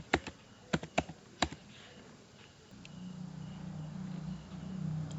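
Several crisp key taps on a computer keyboard, entering a post office pincode, come in a quick irregular burst near the start, then give way to a low steady hum.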